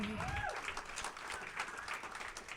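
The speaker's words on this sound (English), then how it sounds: "the creator of the premise, give him another round of applause, John Whitney." A live audience at a comedy show applauds steadily for a few seconds, dense clapping from a crowd with a brief voice at the start.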